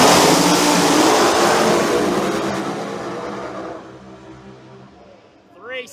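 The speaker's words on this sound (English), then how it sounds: "Should be a good drag race right here, really good." Outlaw Pro Mod drag cars launch down the strip with a loud, broad engine roar that fades steadily into the distance. An announcer talks over the roar, and a brief revving swell follows near the end.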